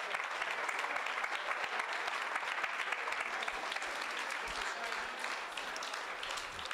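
Sustained applause from an audience at a 2019 high school Hall of Fame induction ceremony fills the room evenly and continuously, without speech.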